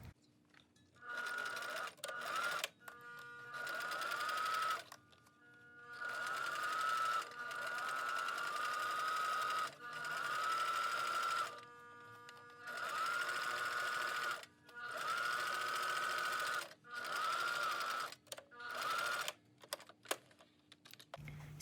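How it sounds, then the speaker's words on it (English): Sewing machine understitching the lining of a fabric face mask, close and clear in short bursts of rapid chattering stitching separated by pauses, no talking. "So you'll put it in your sewing machine right at the edge of the lining"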